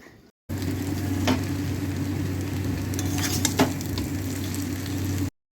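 Egg chowmein sizzles steadily in a frying pan while being stirred, a constant loud frying hiss with a couple of sharp utensil clicks against the pan.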